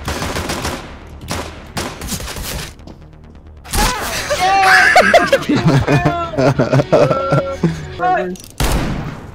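Video game gunfire in quick bursts of sharp, loud shots, with rapid automatic fire early on and again at the end, while a voice laughs and shouts excitedly over the middle stretch.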